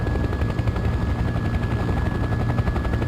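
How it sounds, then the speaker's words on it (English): A helicopter in Farming Simulator 15 flies over farmland with a loud, steady, low rotor chop that thuds in a continuous rhythm, with no voices. "I'm just having fun flying my helicopter."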